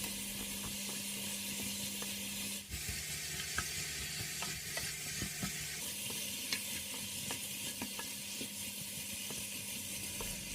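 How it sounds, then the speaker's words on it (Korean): Chopped eggplant and mushroom vegetables stir-frying in a pan over medium-high heat, a dense continuous sizzle with scattered scraping and tapping from stirring, close-up and steady, no voices. "썰어 놓은 야채를 다 넣고 강약불로 볶아주세요"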